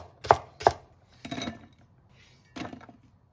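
A knife chops a Chinese leek (scallion) into rings on a cutting board, four sharp close thuds in an uneven rhythm, the first two quick and loud, with no talk.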